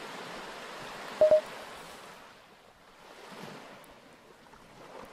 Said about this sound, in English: this is gonna make me fall asleep just hearing the water sounds they put in